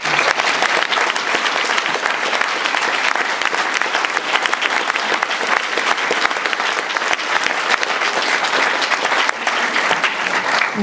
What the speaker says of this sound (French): je voudrais donc vous demander, avant qu'il commence, d'applaudir Cédric Villani